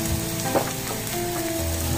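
Rice frying in butter in a pan over moderate heat, a close, steady sizzle with a stirring scrape near the middle, no voices.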